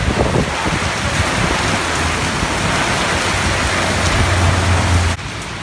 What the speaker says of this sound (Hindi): इस तरफ बहुत ज़्यादा बारिश हो रही है